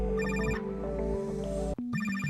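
A phone ringtone plays in the video game True Colours, a bright synthetic melody of repeating tones that cuts off briefly near the end and then resumes, loud and close, with no talking.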